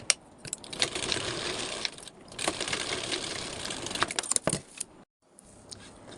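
A sewing machine stitches blouse lining fabric in bursts of rapid mechanical clatter, pausing briefly between runs and stopping near the end, close and clear with no talk.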